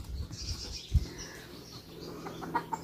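Frightened chickens in a village garden, a faint flurry of wing flaps and a sharp thump followed by scattered, distant clucks and alarmed squawks, with no talk over it.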